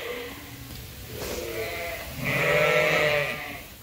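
Ewes in a farm pen bleat close by, with several overlapping wavering calls, the loudest one rising near the end over a steady barn background.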